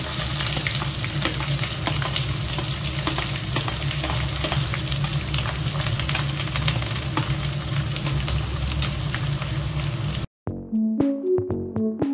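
Onions fry in hot mustard oil in a kadai with dried red chillies and bay leaves, giving a loud, steady, dense sizzle for about ten seconds. It cuts off abruptly, and a few short musical notes follow.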